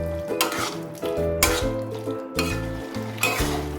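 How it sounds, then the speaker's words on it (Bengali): Mochar ghonto, a banana flower curry, being stirred in a pan, with a spoon scraping and clinking against the metal in short repeated strokes over a soft sizzle, alongside a backing music track with a steady rhythm. "খুব ভালো করে এটাকে একটু নেড়ে নেব"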